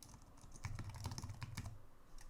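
Fingers type quickly on a computer keyboard, a close, soft run of clicky keystrokes with uneven rhythm and no voices.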